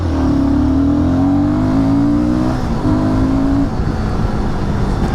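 A Royal Enfield Guerrilla 450 motorcycle engine revs up loud and close, its pitch climbing steadily, then dropping briefly before rising again and settling into a rough, throaty idle-like rumble.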